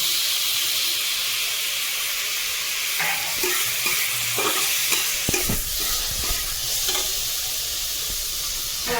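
Ginger fries in oil in a pan with a steady close sizzle, joined midway by scraping stirring strokes and clatter from a spatula, no voices.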